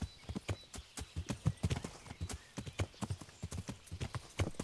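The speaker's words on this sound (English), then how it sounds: "Don't get knocked off the horse, Henry." Steady clip-clop of a horse's hooves while riding in a medieval video game, a quick even rhythm of close, distinct hoof strikes running throughout with no talk.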